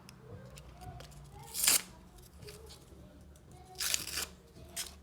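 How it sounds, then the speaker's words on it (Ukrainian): Paper crinkling and tearing close up in a few brief rustling bursts, with quieter handling sounds between. "давайте відкривати цей пакетик"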